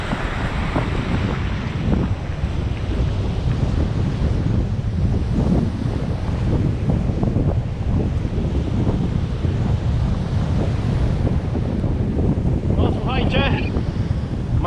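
Strong wind buffeting the microphone on a Baltic Sea beach on the Polish coast near Dziwnów and Pobierowo, with surf crashing and rumbling underneath, loud and continuous throughout.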